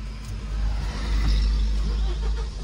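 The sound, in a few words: truck engine starting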